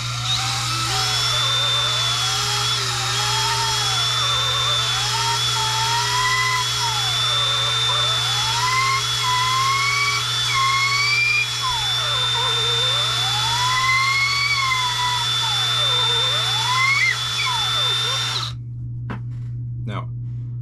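A reamer bores out a cork grip to fit a fishing rod blank, a steady motor whine under a high rhythmic squeal that swoops up and down with each pass, ending abruptly in a few clicks.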